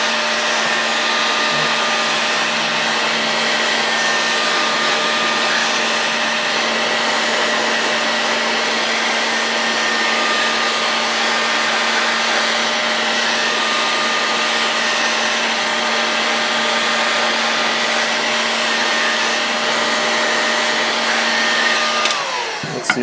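A heat gun set on high, used during a Moki 2 10 disassembly, blows a loud, constant airy roar with a steady whining tone for over twenty seconds, alone and unbroken until it cuts off at the end.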